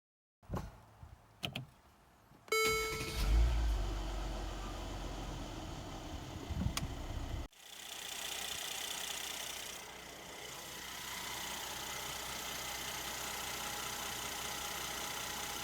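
A Mercedes-AMG GLE 43 (W166) engine, freshly filled with oil after an oil change, cranks and catches after a few soft clicks, then settles into a steady, quiet idle.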